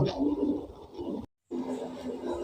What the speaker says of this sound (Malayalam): ഇതാണ് നമ്മളെ കിളികൾ